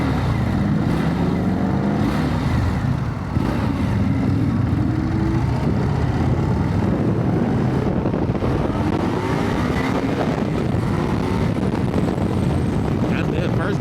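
Indian Scout motorcycle on the move, its engine drone blended with heavy wind buffeting the microphone in a continuous roar that stays loud and close throughout.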